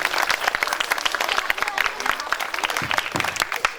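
An audience at a Rama Navami day programme claps loudly and continuously, a dense, steady wash of applause filling the whole stretch.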